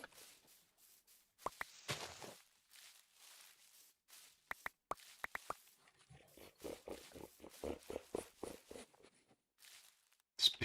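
Pig snorting in short repeated bursts, moderately near, with footstep-like knocks and other scattered noises around it; no talking.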